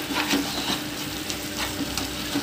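Bottle gourd halwa with raisins being stirred in a pan, a steady soft sizzle with scraping stir strokes throughout, close and continuous, no voices.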